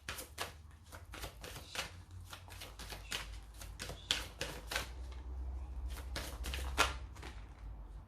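Angel oracle cards are handled and shuffled in quick, crisp bursts of riffling and slapping, close and fairly quiet with no talk.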